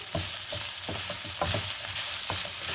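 Fried chicken with finely chopped carrot and capsicum stirred in a hot pan, rhythmic scraping strokes about every half second over a constant loud sizzle, close up with no voices.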